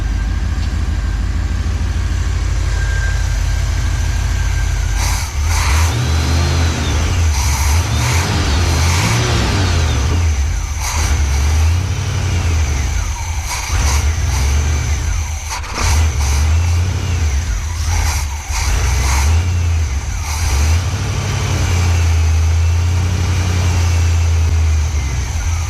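A 1986 Pontiac Trans Am V8 with fuel starvation trouble runs continuously close by, its engine rising and falling through repeated revs over a steady rumbling idle, loud with no talking.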